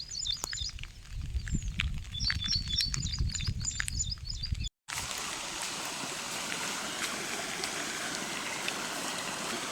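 Water runs in a stream swollen after unseasonal rain near farm fields; birds chirp over a low rumble at first, then after a brief break a steady, fairly close rushing flow fills the rest.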